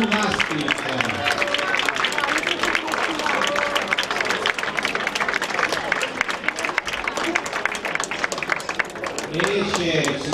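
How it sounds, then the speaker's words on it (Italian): An audience at a national dog show in Crotone claps continuously in a thick, fairly close wash of applause while an announcer's voice carries over it. "Applausi per il Gymnastics!"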